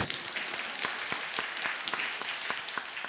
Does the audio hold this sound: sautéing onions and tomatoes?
no